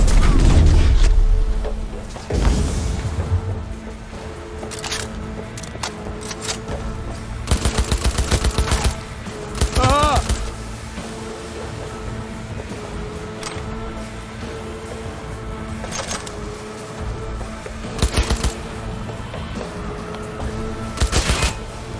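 Cyberpunk 2077 shootout with heavy, loud automatic gunfire and booming shots in repeated bursts throughout, dense and close, with shouted voices mixed into the chaos.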